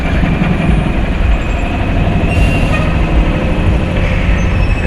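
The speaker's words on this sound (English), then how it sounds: "Oh, garbage truck we got over here, look." A garbage truck drives past, its engine producing a loud, steady low rumble that fills the whole stretch without a break.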